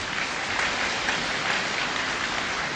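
Enthusiastic applause from an audience at a gathering in Busan: a dense, steady wash of clapping that holds at an even level for the whole stretch, with no voices.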